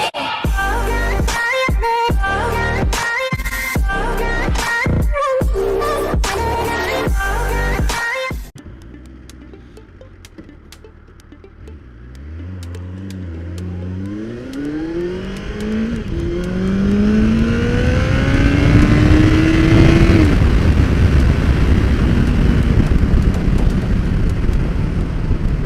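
A Kawasaki Ninja ZX-14 motorcycle under way, heard after a stretch of music: wind rush and a loud engine whose pitch climbs and falls through several rising revs, growing louder toward the end.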